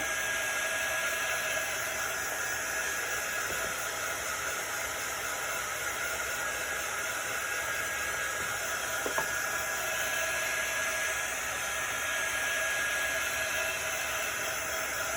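Steady loud blowing whoosh of a hair dryer or heat gun drying chalk paste on a craft stencil, running continuously at close range, with no talking.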